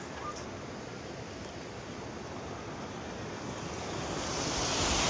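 Continuous rushing roar of a mountain river close by, a broad, unbroken water noise that swells slightly louder toward the end, with some wind buffeting and no talking.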